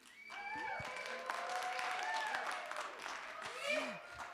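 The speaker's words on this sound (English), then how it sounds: "That is the sound of the biggest crowd we have had in here for quite a while." Applause and cheering from a small crowd of around 35 people at a live premiere at the Myrna Loy theater, a steady patter of clapping under a voice speaking over it.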